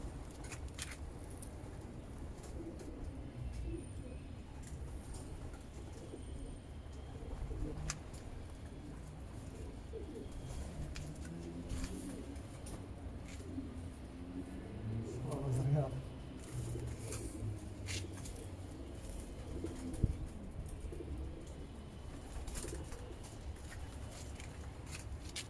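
Male pigeons cooing in a loft, soft repeated low coos drifting under someone talking, with occasional wing flutters and scuffs.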